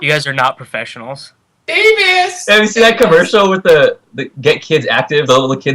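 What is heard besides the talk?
No everyday noises stand out.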